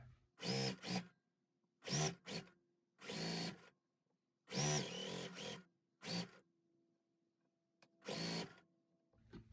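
A sewing machine stitches a row of scrap quilt blocks in short buzzing bursts, each run stopping and restarting with brief pauses between, close and clear.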